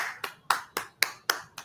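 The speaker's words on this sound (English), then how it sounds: "I am going to give Peach McIntyre a round of applause." Seven sharp hand claps in a steady, evenly spaced rhythm, close and crisp, with no voices over them.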